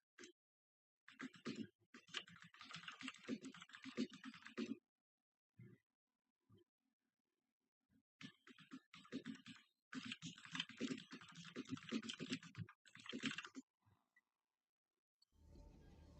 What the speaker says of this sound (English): I'll just type this in the chat.